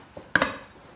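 A knife slices through skinless pork belly into thick pieces, giving one sharp clack against the board with a quieter knock just before it.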